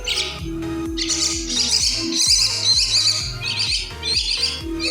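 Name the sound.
baby birds chirping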